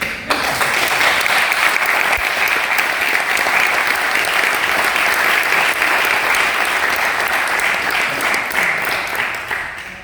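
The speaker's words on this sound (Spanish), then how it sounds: "quiero felicitar aquí al público, enormemente, y dedicarle otro aplauso" An audience at a book presentation in Tenerife applauds loudly and continuously for about ten seconds, a thick, even wash of clapping that tapers slightly at the end.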